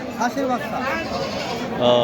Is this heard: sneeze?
no